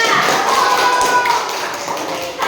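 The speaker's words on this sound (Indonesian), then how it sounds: "Tepuk tangan untuk manusia" A class of students claps hands in a classroom during a teaching session, a dense, steady patter of many hands that is loud and close, then trailing off slightly toward the end.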